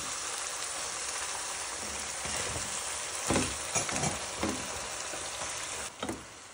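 Bottle gourd goes into a pan of hot spice paste for a curry, and a steady frying sizzle follows with a few soft stirring and clattering bumps near the end.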